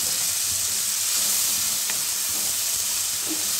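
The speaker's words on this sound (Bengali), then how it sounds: "ওই তেলেই আমি এই বাটা মশলাটা দিয়ে দিচ্ছি।" A ground spice paste of ginger, tomato and green chili hits hot oil and sizzles, a steady, close, loud frying hiss that holds evenly throughout.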